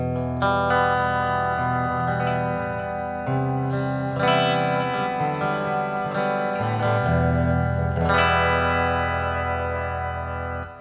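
Sustained electric guitar chords from a home-built two-voice guitar ring out with delay repeats and a wash of reverb from a Fly Rig pedal, loud and continuous with no talking.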